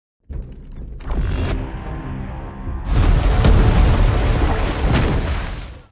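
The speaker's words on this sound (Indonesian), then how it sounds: "Tiba-tiba terjadilah ledakan." Explosion in an action film about an elite soldier, with a loud booming blast rising midway and a sustained roaring rumble that carries on to the end.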